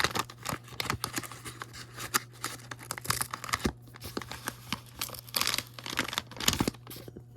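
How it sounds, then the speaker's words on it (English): A tab is ripped open on an Amazon package holding a CD reissue, giving close, crackly tearing and crinkling of cardboard and paper in irregular bursts over a steady low hum. "now we're gonna rip the tab here"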